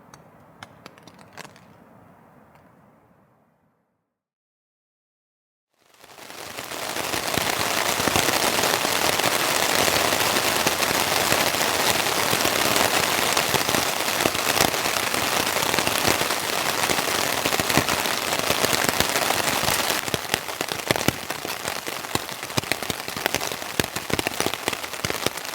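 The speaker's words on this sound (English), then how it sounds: "as you can hear, it's still raining this morning" Steady, dense rain drums on a tent after a quiet, low rumbling start, a continuous close hiss of drops with scattered sharper patters, no voices.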